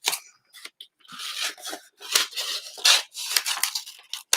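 Repeated crisp snipping and rustling of scissors cutting through paper, close up, in short irregular bursts with brief quiet gaps.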